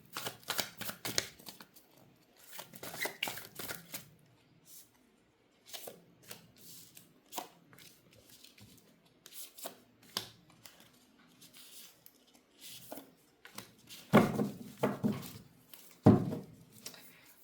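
A deck of tarot cards is shuffled and handled in repeated quick riffling bursts, close and crisp, with pauses between them. The loudest flurries come near the end.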